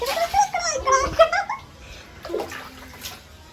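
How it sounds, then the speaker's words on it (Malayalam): Water poured to rinse dirt away during a young girl's bath at home, splashing in short bursts while a voice and giggles sound nearby. "ഒഴിക്കിങ്ങനെ അപ്പോൾ ആ അഴുക്ക് അങ്ങോട്ട് ഒഴുകിപ്പോവും"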